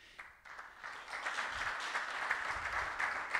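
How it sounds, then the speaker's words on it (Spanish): Applause from a conference audience swells after a soft start and holds at moderate level, a fairly faint, steady patter of many hands. "Así que, Rosita, le damos un cordial aplauso."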